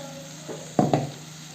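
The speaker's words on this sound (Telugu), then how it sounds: "కారం పొడి కొంచెం ఇట్లా ఫ్రై అయినాక మనం దాంట్లో టమాటా మూడు టమాటాలు మీడియం సైజుని కట్ చేసుకొని ఇట్లా ప్యూరీ వేసుకోవాలి" Tomato puree made from three medium tomatoes hits chili powder frying in a pan, giving two sharp bursts of sizzling over a steady low frying hiss.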